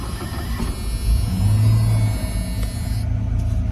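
A 1986 Ford F150 truck engine rumbles low and steady on a first ride, swelling briefly as it pulls away, heard from inside the cab.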